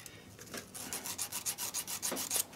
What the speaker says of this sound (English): Just gently rub them down,